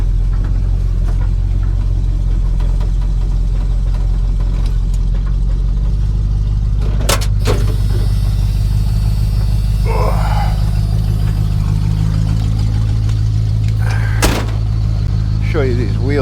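A 1986 Ford F-150 bull-nose short bed pickup rumbles at a steady low idle as it pulls up, with a couple of sharp door-like clunks partway through and a voice talking briefly over the engine.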